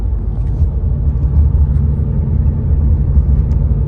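A diesel truck cruising down the road gives a steady, loud low-end engine and road rumble throughout, with no voices over it.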